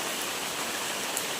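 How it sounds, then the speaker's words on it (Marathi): Unseasonal rain falls steadily with a dense, even hiss and no break, no voices over it. "मस्त पाऊस पडतोय"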